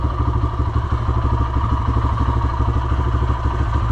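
A brand new Kawasaki motorcycle engine idles steadily up close, a loud, even, rapid putter with mechanical clatter running unbroken throughout.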